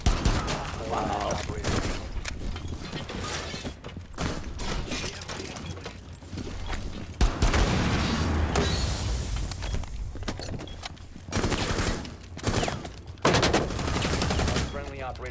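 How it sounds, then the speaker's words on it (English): Gunfire in the video game Rainbow Six Siege, with repeated bursts of automatic shots and sharp single cracks, loud and dense, broken by short lulls. Voices talk over parts of it. "They're shooting at you."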